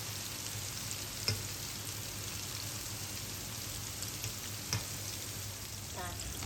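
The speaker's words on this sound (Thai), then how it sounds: "ทอดไฟอ่อน ทอดไปจนกว่าจะเหลืองกรอบค่ะ" Dumplings deep-frying in oil over low heat give a steady, soft, continuous sizzle with a couple of faint clicks, with no voices.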